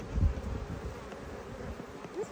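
Honey bees on a hive frame during a first hive inspection, a low buzzing hum with handling bumps and rustle, close and brief.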